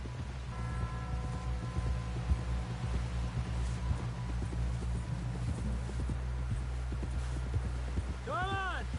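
Horse hooves clip-clop steadily in Red Dead Redemption 2 as a rider approaches a camp, a continuous clatter under a low rumbling ambience with a brief whinny near the end.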